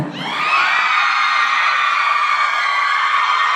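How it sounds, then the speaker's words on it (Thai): A crowd of fans at an awards ceremony in a Bangkok theatre screams loudly and continuously, a sustained, high-pitched shrieking wall of voices that swells in and holds. "ยังไม่ทันได้เริ่มต้นอะไรเลยน้องกรี๊ดขนาดนี้แล้ว ขออีกทีได้ไหมล่ะ"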